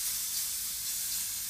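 Finely chopped garlic dropped into hot oil for a chicken stir fry gives a steady, close, loud sizzling hiss that holds even throughout, with no voices.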